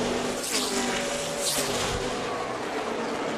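A Toyota NASCAR stock car races at Michigan, its engine roaring loud and steady as it pulls hard off a turn, with a crowd-and-track wash behind it.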